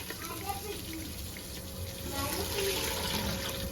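Water runs and splashes steadily into a pot of whole spices for chicken biryani rice, with a background hum and faint voices nearby.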